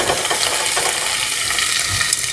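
Brussels sprouts hitting hot olive oil in a pot over medium heat, a loud, bright, steady sizzle and crackle close by throughout, with no talk.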